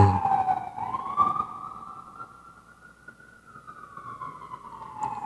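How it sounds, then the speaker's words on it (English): A wailing emergency siren sweeps up and down in the distance in New York City, fading slightly, with faint city traffic rumble underneath. "there goes those New York City sirens again"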